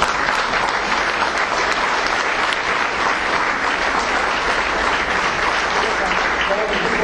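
An audience in a lecture hall gives dense, sustained applause after a talk. The clapping stays loud and even throughout without fading.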